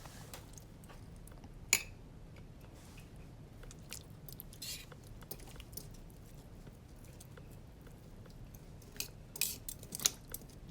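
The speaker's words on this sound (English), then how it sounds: "you want to work your potatoes and carrots into the broth" A utensil works potatoes and carrots through the broth of a crockpot pot roast, giving soft, irregular clinks and wet scraping taps close by, with a few sharper knocks scattered through a steady low background.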